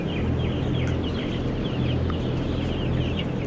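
A dense crowd of young broiler chickens on a large Thai chicken farm, released across the whole floor, keeps up a constant clucking and chirping din with no pauses.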